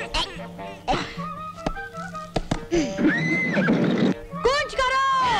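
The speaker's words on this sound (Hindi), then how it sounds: "घोड़े ले आओ।" Horses whinny and neigh in a dramatic scene, shrill cries cutting in among thuds and shouting voices at close range.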